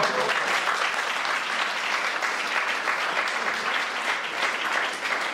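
A crowd applauds steadily at a New Year's greetings ceremony in Marchémoret, dense clapping sustained throughout at a loud, even level.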